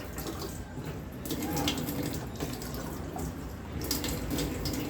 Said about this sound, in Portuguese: Eu umedeço ele com um pouco de água em exagero.